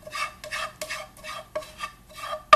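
Garlic shrimp cooked with butter and scallions is folded into a cream cheese, mayonnaise, lemon and parsley dip, giving a series of soft, wet scraping strokes in a bowl, close and rhythmic, each ending with a light clink, no voices.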